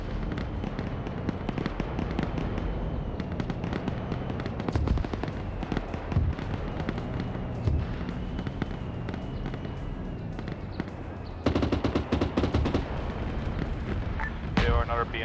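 Gunfire and artillery shelling in a military video game against a Russian invasion, with dense crackling shots and repeated heavy booms running throughout, loud and continuous, with a sharper burst of impacts near the end.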